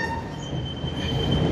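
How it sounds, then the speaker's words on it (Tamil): A passenger train leaving Fort railway station in Sri Lanka rolls steadily onward, with a dense rumble of wheels on track and a faint high squeal, heard from on board with no voices. "கோட்டை புகையிரத நிலையத்திலேருந்து புகையிரதம் எடுத்தாச்சு. போய்கொண்டிருக்கிறோம்."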